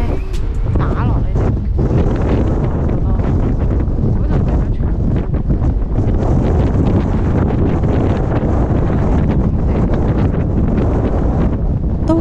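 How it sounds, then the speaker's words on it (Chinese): Strong wind blows across a Melbourne beach, carrying sand and buffeting the microphone in a loud, continuous roar that lasts throughout, with a faint voice partly buried beneath it. "呢度真系超级大风啊"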